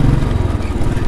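A motorcycle ridden through New York City, its engine a steady loud low drone with a rough throbbing texture throughout the short stretch.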